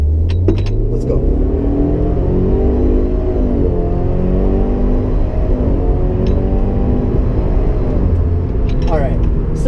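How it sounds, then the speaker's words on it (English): Subaru WRX (2015-2017) with a CVT accelerating hard in sport mode, engine droning steadily and close, with stepped pitch drops where the transmission simulates gear shifts; a voice talks briefly at the start. "Every time the gear shifts from, well, the CVT simulates a shift, there is a burst of torque"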